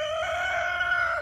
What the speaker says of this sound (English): I have no idea why he's crowing so much all of a sudden.